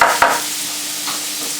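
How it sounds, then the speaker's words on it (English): Vegetables frying in butter in a pan give a bright, steady sizzle close by, opening with a brief stirring scrape, and no one speaks. "That beautiful frying, you can hear that beautiful frying, looking really nice."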